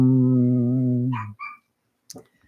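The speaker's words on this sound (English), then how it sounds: "we got a little dog out there just barking his head off" A small dog barking outdoors: one long sustained, strongly pitched yelping bark or howl, then a couple of short, fainter yips, each clear and fairly close, with a brief quiet gap between.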